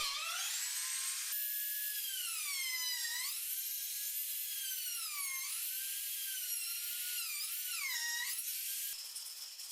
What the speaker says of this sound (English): I almost forgot to cut the slots for the clamps that will hold down the tabletop